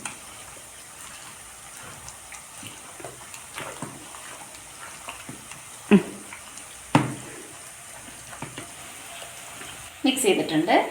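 Green pepper chicken masala with fried onions being mixed in a pan, a soft continuous sizzle broken by a few louder spoon scrapes and knocks, with a burst of stirring near the end and no speech.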